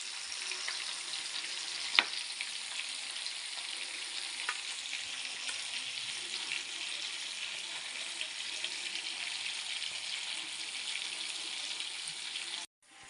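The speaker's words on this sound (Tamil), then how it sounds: "பொரித்து அரை பொரியலாக பொரித்தா போதும்." Fish sizzling as it fries in hot oil for a roast, a steady broadband crackle holding evenly throughout with one sharp tap early on, no voices over it.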